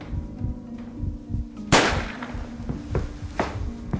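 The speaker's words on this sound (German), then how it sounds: "Kenneth Bush stirbt durch eine Kugel ins Herz" Single gunshot sound effect in a documentary reenactment of a house murder, one sharp loud crack cutting through a low, throbbing heartbeat-like pulse of music.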